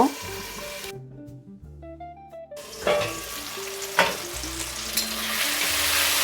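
Tomatoes cooking in a pan on low-medium heat with a steady sizzle and the scrape of stirring, interrupted briefly by some tonal sounds before the frying hiss returns.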